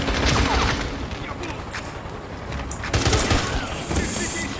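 Automatic gunfire from a Russian-made assault rifle in a James Bond video game, dense bursts of shots and booms running throughout, fairly loud with busy game effects around them.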